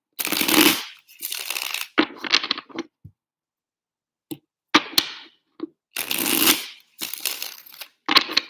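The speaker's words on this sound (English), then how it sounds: "Giving it a good shuffle here." Tarot cards being shuffled close up, several crisp riffling bursts with short pauses and sharp snaps between them, quiet room, no talking.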